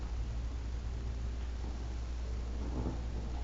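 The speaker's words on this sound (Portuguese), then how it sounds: "Eita, chovendo!" Steady rain hisses throughout in a Minecraft game world, with a low rumble of thunder swelling beneath it, continuous and fairly loud.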